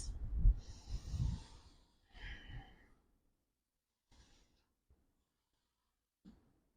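Deep nasal breaths during a yoga cobra pose, with a few loud close inhales and exhales early on that fade to faint, sparse breaths amid near silence.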